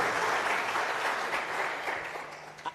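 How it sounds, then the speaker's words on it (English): An audience at a youth empowerment week session breaks into applause for a speaker, a dense, steady clapping wash that holds for nearly three seconds and tapers slightly at the end. "this round of applause"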